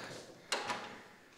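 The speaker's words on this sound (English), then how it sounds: "if I can open the door" An old door in a forgotten Italian property is pushed open, giving a brief scraping knock followed by a second softer scrape, faint and somewhat distant in a quiet room.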